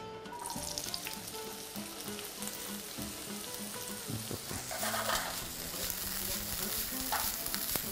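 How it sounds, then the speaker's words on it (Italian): Oil sizzles and crackles steadily in a pan, a continuous bright frying hiss with occasional stirring scrapes and no voices. "una volta che comincia un po' l'olio a friggere, andiamo a mettere il ciabotto"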